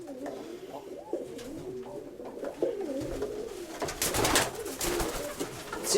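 Pigeons coo softly and repeatedly close by, their low, rolling calls overlapping amid faint rustling and background noise.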